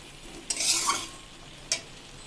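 Pumpkin and rice curry is stirred in a pan, giving two short scraping, sizzling strokes close by, the first longer and the second a brief swipe, with quiet background between.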